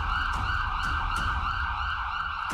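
Air raid siren sounding over Barmer during a blackout, a steady, loud, sustained wail with no pauses or voices.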